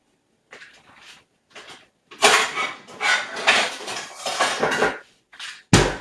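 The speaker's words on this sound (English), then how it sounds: "So I'm gonna grab a little saucepan." Metal pots and pans clatter and clank close by in a kitchen as a small saucepan is pulled out from among them, in irregular bursts of knocks and scrapes ending with a sharp clang.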